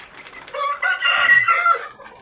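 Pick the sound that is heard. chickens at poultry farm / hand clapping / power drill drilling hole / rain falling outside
chickens at poultry farm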